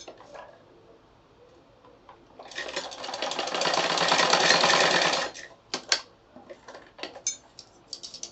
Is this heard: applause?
no